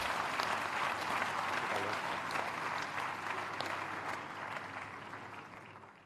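Large audience at a university convocation ceremony applauds honorary graduates, a broad continuous roar of clapping from a big hall that holds steady and then slowly tapers off toward the end.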